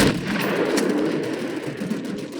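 Anti-aircraft gun fire in a WWII sniper video game set in Berlin, a rapid run of heavy booming shots merging into a dense, sustained barrage.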